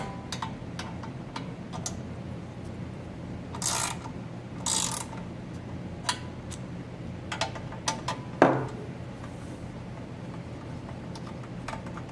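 Ratchet wrench clicks as 8mm screws come off the rewind assembly of a Briggs & Stratton 950 Series engine, with faint rapid ticking broken by a few louder bursts and one sharp knock, close and quiet.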